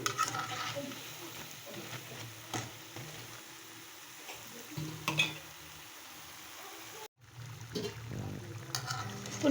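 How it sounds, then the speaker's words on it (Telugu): Chitti punugulu frying in hot oil while being turned over, a soft continuous sizzle with occasional scraping stirs, quiet and close, with a brief gap near the end. "మన చిట్టి పునుగుల్ని అటు ఇటు అలా ఇలా తిప్పుకుంటూ ఫ్రై చేసుకుందాం."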